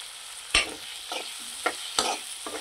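A cashew and potato curry is stirred and sautéed in a pan, with soft sizzling frying and several distinct scraping strokes of a spoon at irregular intervals, close and clear with no talk.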